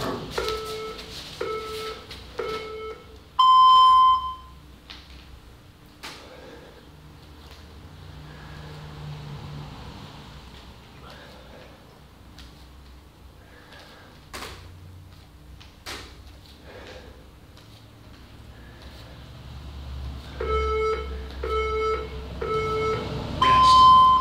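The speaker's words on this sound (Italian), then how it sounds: "c'è il timer che ci darà l'audio" Workout interval timer beeps during a 20-minute push-up challenge: a series of short evenly spaced electronic beeps ending in a longer tone, then quiet room noise with faint thumps, and another beep countdown near the end.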